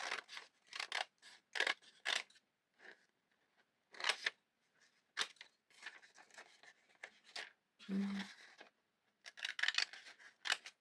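Scissors snip pictures out of store magazines and catalogs, close and quiet, in quick clusters of crisp cuts separated by short pauses, with paper rustling between them.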